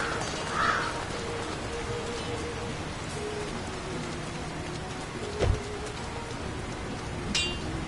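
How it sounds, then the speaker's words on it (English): Constant rain falling over a town in the video game Nightreign, a steady soft patter and hiss throughout, with a few brief louder clicks and a faint bird call early on. "Who could live in a town where it's always raining?"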